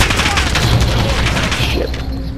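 Gunfire in the Call of Duty: Modern Warfare video game during a squad domination match, a dense, loud burst of rapid shots and booms that tails off after about two seconds.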